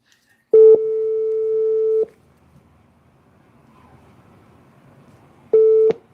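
Phone line tones from an unanswered call: a long steady tone, then quiet line hiss, then another short tone near the end, loud and clear with no talking.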